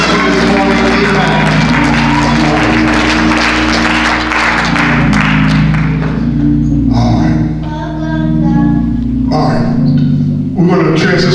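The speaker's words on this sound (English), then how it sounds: "let's give God a hand clap of praise for just this morning" A Baptist church congregation claps its hands in praise during a Sunday morning service, a dense, sustained wash of clapping blended with music and voices, easing off briefly near the end.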